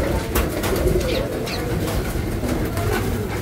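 Racing pigeons cooing at a loft during a pigeon race, with soft, low repeated coos layered over steady background rumble and no talk.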